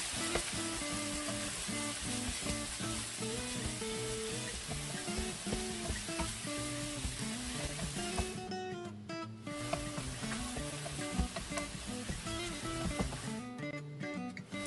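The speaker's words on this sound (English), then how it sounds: "Then the onion, then I add in the sliced beef." Sliced beef and onion frying in a pan for kilawin na baka, a continuous close sizzle with occasional stirring scrapes, loud and steady with no talking.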